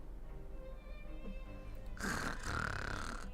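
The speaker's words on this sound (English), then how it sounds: "Paimon snore." A cartoonish snore from Paimon in the video game Genshin Impact sounds over game background music, with a loud, raspy burst near the end that fills the mix.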